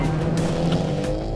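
A car engine pulls hard with a tire squeal during a race against skiers, a loud close drone with a sustained squeal tone over its brief length.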